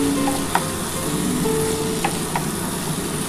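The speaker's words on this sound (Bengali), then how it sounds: "আমি কিন্তু এবার গরম জলটা দিয়ে দেবো।" Soybean chunks fried in a thick spiced masala sizzle steadily and loudly in the pan, with a few light clinks of stirring; hot water is poured into the masala.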